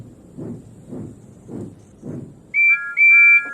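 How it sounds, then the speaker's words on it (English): A steam engine's whistle, Thomas the Tank Engine's, sounds near the end: two clear, sustained toots, the second longer, following a few soft rhythmic chuffs. "Then he heard a whistle."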